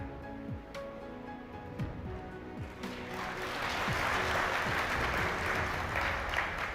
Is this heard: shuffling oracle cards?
no